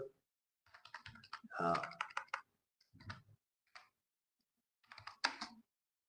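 Typing on a computer keyboard comes in quick bursts of close, crisp key clicks separated by short pauses. A voice speaks softly over the clicks.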